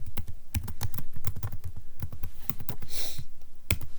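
Typing on a computer keyboard: a quick, irregular run of close, crisp key clicks with a short heavier burst near the end.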